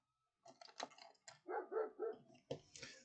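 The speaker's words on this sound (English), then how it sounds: "barking at something in the field" A dog barks outdoors in a field beside a shop, faint and distant, a quick run of barks followed by a couple more after a pause.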